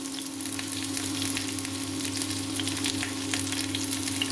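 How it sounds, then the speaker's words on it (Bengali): Onions sizzle in a pan with dried red chillies while being stirred for a dhaba-style chickpea and rajma ghugni, a constant close frying hiss with a low steady hum beneath and faint utensil scrapes, no talk. "পেঁয়াজটাকে এবার নাড়িয়ে চাড়িয়ে নিতে হবে"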